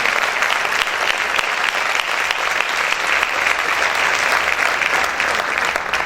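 Loud, continuous applause from a church congregation praising God, thick even clapping from many hands filling the room without a break.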